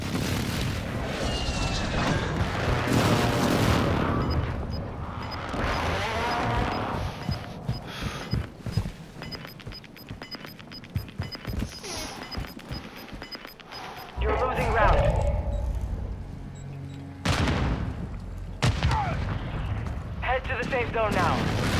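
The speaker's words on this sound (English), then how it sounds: "Friendly airstrike on the way." Friendly airstrike explosions in a battle royale video game, heavy booms and rumbling blasts repeated over roughly twenty seconds alongside gunfire and game voices.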